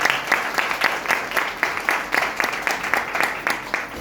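An audience at a closing business event in Katni, Madhya Pradesh applauds, giving moderately loud, rhythmic bursts of clapping that repeat steadily throughout.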